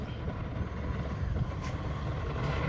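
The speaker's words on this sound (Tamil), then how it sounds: "இதான் engine Yamaha engine nine point nine இதுக்கு நம்பர் சொல்லுவாங்க ஸ்டார்ட் பண்ணியாச்சு" Small Yamaha 9.9 outboard engine running on a fiber boat at sea near Pamban, a low steady motor drone mixed with wind buffeting, fairly close and continuous without speech.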